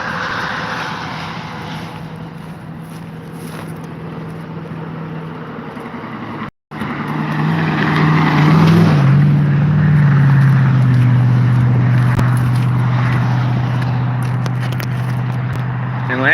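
Busy road traffic rolls past a Northern Michigan rest stop, a steady rumble of engines and tires that swells into a louder passing roar midway before easing off.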